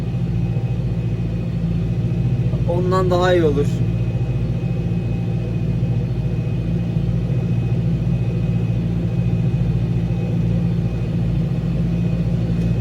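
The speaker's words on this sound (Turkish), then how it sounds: "Traktörün sesi var ya kükrüyor ya." A TR6.130 tractor engine rumbles low and steady throughout while ploughing a muddy field, loud and close, with a voice speaking briefly over it.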